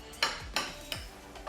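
Utensil clinks against a bowl while mixing wild-caught salmon topping, three sharp scraping taps spaced about a third of a second apart, close and fairly quiet with no voices.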